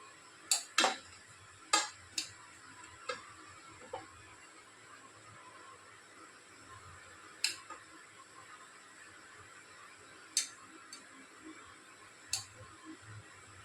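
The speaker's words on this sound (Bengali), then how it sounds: "তাহলে এবার ডিমগুলোকে আমি পিস করে কেটে নেব।" Knife slicing boiled eggs into quarters on a board in a home kitchen, heard as a series of sharp, separate taps and clicks spaced irregularly, close and fairly quiet with no talking.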